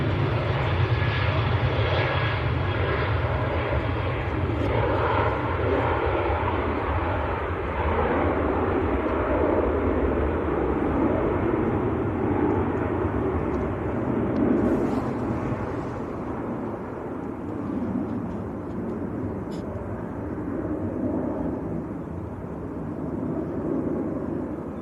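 Jet aircraft engines roar steadily at Manchester Airport as planes line up for takeoff, a loud broad continuous rumble heard from a distance outdoors with some wind, no talking.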